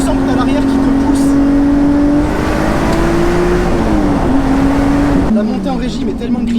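A Lotus Exige V6 S 3.5 engine pulls up through the revs from inside the moving car, a loud, steady drone that climbs in pitch, with a shift partway through, under a voice talking over it.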